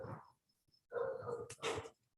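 Dogs in the neighbourhood bark and whine at night, not the household's own dogs: a short burst of yelps, a pause, then two longer runs of barking, at a moderate, fairly faint level with no talk over them.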